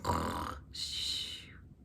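A voice imitates snoring, producing two drawn-out, rasping breaths: a low rumbling inhale followed by a higher, hissing whistle, both close and loud.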